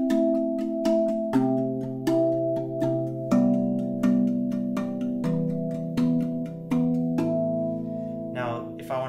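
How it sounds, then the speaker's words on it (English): RAV Vast A Integral tongue drum played as a handpan, struck in repeated chord changes with a steady rhythm, each group of notes ringing warmly before the next, close and clear with no voices. "if I wanted to play all the chord changes, it would sound like this"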